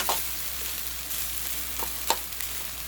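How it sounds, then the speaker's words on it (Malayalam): Tomato rice stirred in a hot pan, a steady sizzle of frying under a few soft scrapes of the spoon, close and continuous with no talking. "ഇനി എല്ലാം കൂടെ നല്ലോണം മിക്സ് ചെയ്ത് കൊടുക്കുക"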